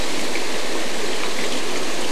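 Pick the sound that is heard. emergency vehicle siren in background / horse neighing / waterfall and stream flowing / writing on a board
waterfall and stream flowing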